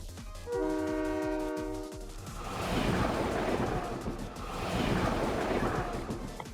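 A train horn blares in long tones as a train rumbles along with heavy, rolling noise that surges twice, in a Blue Archive chase scene on a moving train.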